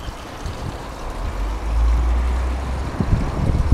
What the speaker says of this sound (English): Nice sound of water, always relaxing,